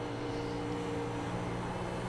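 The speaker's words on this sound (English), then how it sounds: "Revs bouncing around there due to the roughness of certain parts of the track." Race car engine sound from a sim racing game broadcast, a steady droning hum with bouncing revs as the car crosses rough sections of track, continuous and moderately loud with no talk.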